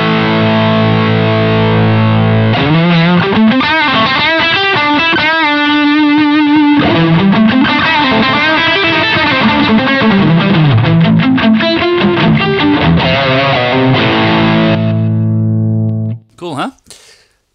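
Electric guitar played through a Fender Mirror Image delay pedal with a Fender Pugilist distortion, loud sustained distorted chords and riffs with echoing repeats for about sixteen seconds, then cutting off with a few brief handling noises.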